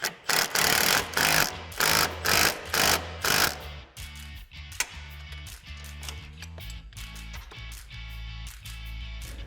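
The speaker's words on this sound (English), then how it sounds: "Now we're going to fully tighten our pinch bolt." A hand ratchet tightens a pinch bolt on a Polaris RZR Pro XP rack and pinion, starting with a run of quick, loud rasping bursts and then settling into softer, scattered clicks up close.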